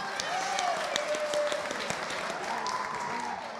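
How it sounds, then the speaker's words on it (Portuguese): Audience applause in a Bible class, a sustained burst of many hands clapping at moderate distance, with faint voices and tones running underneath. "Palmas para mim."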